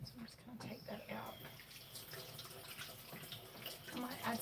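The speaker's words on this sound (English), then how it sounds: "I might add some more water to it" Water running into a cooking pot from a tap, a steady gushing flow with some splashy bursts, heard at moderate level with faint background sounds.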